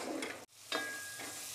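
Apple pieces fry in a pan for payasam, a steady close sizzle with stirring scrapes, broken by one brief silent gap before the frying noise resumes.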